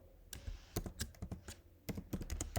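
Someone types a short message on a computer keyboard, with quick clusters of crisp key clicks and brief pauses between them, close and fairly quiet.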